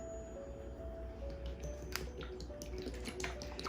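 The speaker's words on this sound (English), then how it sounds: "start moistening our soil with the water" Water trickles and drips onto seed-starting soil indoors, a close, soft patter of irregular droplets and small splashes that grows busier toward the end, with no voices.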